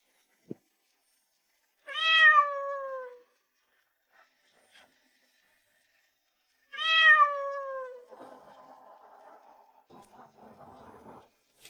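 Two separate plaintive kitten meows on a cold day, several seconds apart, close and clear, followed by faint soft rustling.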